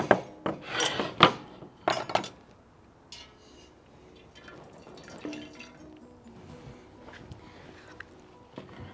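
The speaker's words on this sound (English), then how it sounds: "The apple core and peel have now been simmering in that water for about 5 minutes. So I'm just going to scoop them out." Apple core and peel are scooped out of a pot of simmering water: a few sharp clinks of a utensil against the pot at first, then quiet wet dripping and faint sloshing, close by.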